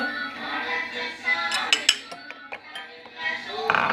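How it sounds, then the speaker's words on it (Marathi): Cornflour being mixed with water in a bowl for Bombay halwa: a spoon clinks and scrapes against the bowl in irregular taps, with a voice talking faintly in the background. "आनी उदक घालता आनी हो मिक्स कर."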